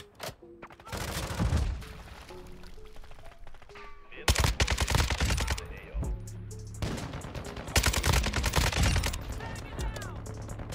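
Bursts of RPK machine gun fire from Modern Warfare 2 come in loud rapid volleys with short pauses between them, some shots distant and others close, while a player talks over the action.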